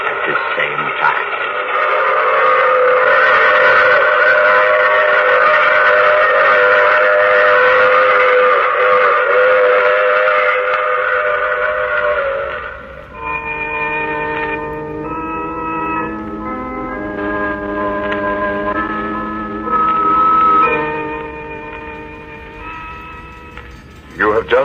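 Old radio drama train effect: a steady loud steam whistle chord holds for several seconds, then gives way to shifting whistle tones over rumbling train noise, with voices faintly mixed in.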